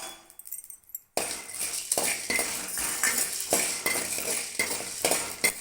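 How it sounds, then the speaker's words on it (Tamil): Red chillies and coriander seeds dry-roasting in a pan: after a quiet opening second, a steady dry rustle and scraping of a spatula begins, with rhythmic stirring strokes and light clinks, close and alone. "வரமிளகாய், அதே மாதிரி கொத்தமல்லி, இது ரெண்டையும் போட்டு வறுத்து எடுத்துக்கிறோம்"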